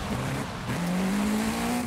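A race car in Forza Horizon 5 drives hard, its engine whining steadily and rising in pitch while a tire squeal or skid runs underneath, loud and continuous for the whole moment.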